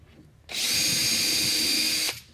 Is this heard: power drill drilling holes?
yes